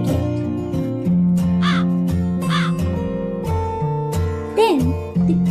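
A cartoon crow caws several times, sharp nasal calls rising over a light musical backing in a children's moral story, with no narration in between.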